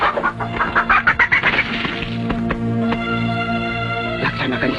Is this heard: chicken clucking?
yes